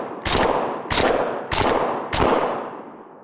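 Four loud, sharp shotgun blasts from a semi-automatic bullpup shotgun fired at a steady pace about half a second apart, each with a ringing outdoor tail that fades after the last shot.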